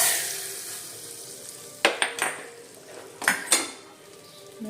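Spices sputter as they are tempered in hot oil and poured into tomato soup in a pot, making a low hiss with two pairs of sharp metallic clanks and bursts of sizzling. No one speaks.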